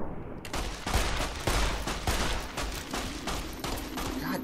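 Rapid, sustained gunfire from weapons in the video game Fallout: New Vegas, a dense volley of repeated shots rattling continuously at close range and loud throughout.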